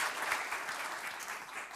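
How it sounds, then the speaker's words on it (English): Conference audience at a European raw materials event gives a round of applause, a faint, distant, steady patter of many hands. "Can we give them a round of applause, ladies and gentlemen?"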